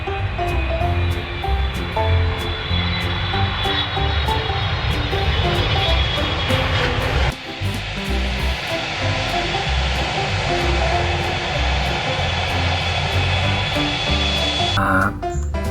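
A toy aeroplane plays its electronic aircraft sound effect, a loud, continuous engine-like roar with a steady whine that runs unbroken for about fifteen seconds, briefly dipping midway.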